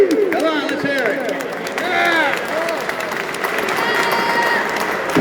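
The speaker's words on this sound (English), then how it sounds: "Clap for yourself for coming out here and doing this big show." A crowd at a gun-law rally applauds and cheers, with many voices chattering and whooping together under steady clapping.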